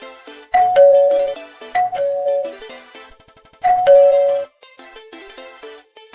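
A bright electronic notification chime of the doorbell ding-dong type rings three times in short rising two-note phrases, loud and clean, with softer tonal blips between them and no talking.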